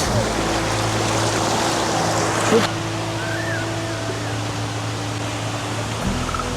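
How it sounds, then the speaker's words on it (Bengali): The strong current of a waterfall stream at Suptadhara falls in Sitakunda rushes past as a loud, steady broadband roar, close by and unbroken. "এই যে এই স্পেসটাতে আপনারা দেখেন কী পরিমাণ পানি এখানে স্রোত আসতেছে"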